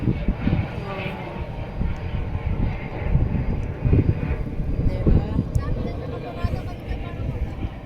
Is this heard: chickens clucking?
no